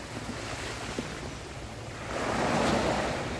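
Ocean waves wash onto the shore, a steady surf rush that swells louder toward the end, with wind buffeting the microphone and no one talking.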